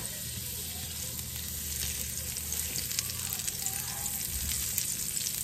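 Butter sizzling and foaming in a pan as pears are about to be cooked, a steady soft crackling hiss that runs unbroken and fairly quiet throughout.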